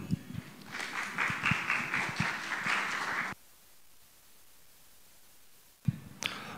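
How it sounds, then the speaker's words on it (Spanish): Modest audience applause at a panel discussion, scattered clapping for about three seconds that stops abruptly, followed by near silence and a brief sound at the end. "Recibámoslos con un aplauso, por favor."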